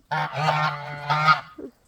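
Domestic geese in a farmyard honking close by, two drawn-out nasal honks in quick succession followed by a short softer call, loud and without speech.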